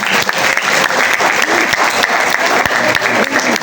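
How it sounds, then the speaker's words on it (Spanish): Steady applause from a classroom group fills the whole stretch, dense clapping held at an even level, near and fairly loud with no break. "Aplauda, Dios mío."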